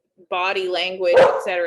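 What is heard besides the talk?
dog barking at the mailman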